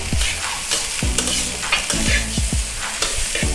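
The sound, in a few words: stirring nasi goreng rice frying in a pan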